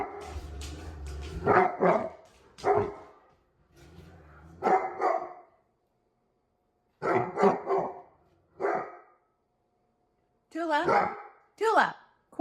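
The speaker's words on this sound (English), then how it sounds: "Do you hear my dog?" Tula the dog barks insistently in short clustered bursts separated by pauses, close and loud.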